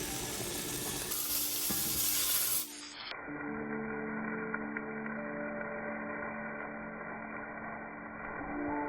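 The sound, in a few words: steak sizzling in a Hexclad pan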